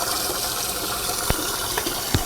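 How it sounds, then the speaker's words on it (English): Water dumped from a small bowl into a bigger bowl at a kitchen sink makes a steady close splashing gush with a few brief sharper splashes near the end. "take that water that you had in the small bowl, dump it in the bigger bowl"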